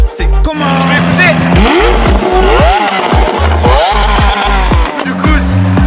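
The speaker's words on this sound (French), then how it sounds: "Lamborghini Aventador, voiture du marié." A Lamborghini Aventador in a Turkish wedding convoy revs hard and repeatedly, loud and close, its engine notes rising and dropping in sharp bursts over the din of other cars.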